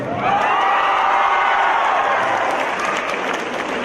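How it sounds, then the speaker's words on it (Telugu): Steady audience applause fills a large hall, dense and continuous from start to finish with a faint undercurrent of crowd noise. "దేవిశ్రీ ప్రసాద్ పేరు చెప్పగానే అందరూ చప్పట్లు పెట్టారు"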